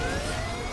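A police siren blares from a pursuing cop car in the racing game Burnout Paradise, a steady loud electronic wail mixed with engine roar, with no pause across the short moment.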